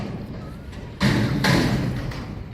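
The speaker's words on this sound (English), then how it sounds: "the fucking garbage man's here getting the garbage and he's loud as fuck" A loud thud lands outside during garbage collection, then a second heavy bang follows half a second later amid dull background clatter.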